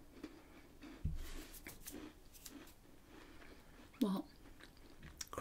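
A crunchy shortbread biscuit with a creamy filling is chewed softly up close, with a couple of sharper bites standing out and quiet whispered speech at times.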